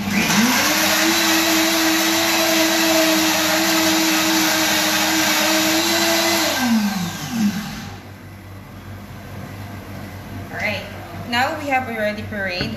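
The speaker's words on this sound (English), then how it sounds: "before I put the milk, the ice cream, I will blend this one first. Okay, just to puree the avocados." A blender whirs loudly and steadily for several seconds while pureeing avocados with milk, then winds down and stops, followed by talking over a quieter background.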